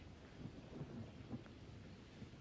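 Steady rain with low rumbling thunder on a street that is flooding, a soft continuous wash with occasional low swells, fairly quiet and without speech.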